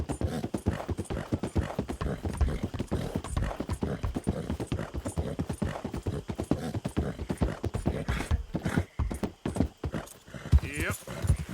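Horse hooves clip-clop steadily in a video game, a dense quick rhythm of hoof beats that runs throughout under constant talking and game noise.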